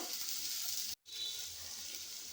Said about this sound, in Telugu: ఇలా కలుపుతూ ఈవెన్గా వేయించుకోవాలండి.